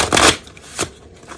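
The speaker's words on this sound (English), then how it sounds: "Yeah, it shuffles pretty nicely. It's got good snap." Mind's Eye Tarot cards being shuffled, a stiff linen-finish deck riffled with a quick papery burst, then a second shorter snap of cards, close and alone.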